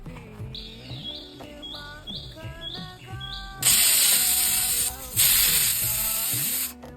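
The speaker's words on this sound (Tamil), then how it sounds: "குக்கரை மூடி 2 விசில் போட்டுக்கலாம்." A loud, steady hissing whistle of a pressure cooker cooking mutton lets off steam, bursting in for a few seconds, pausing briefly, then resuming over background music.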